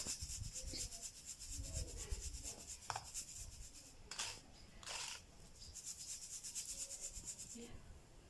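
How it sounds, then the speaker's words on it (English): Homemade ground corn flour rubbed and strained through a sieve, giving close, steady scratchy rustling and scraping with a few brighter rasping swipes, no talking. "So what we'll do is we'll strain it."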